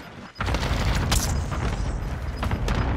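Cluster strike explosions in Call of Duty: Modern Warfare erupt after a brief quiet moment into a dense, continuous barrage of loud, overlapping booms and blasts that rumble without a break to the end.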